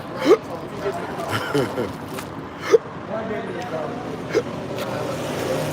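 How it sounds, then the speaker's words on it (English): Three sharp, sudden hiccups spaced a couple of seconds apart, rising over a steady outdoor background with voices and street noise. "I got the hiccups, y'all."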